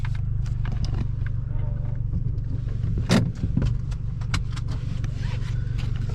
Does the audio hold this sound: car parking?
yes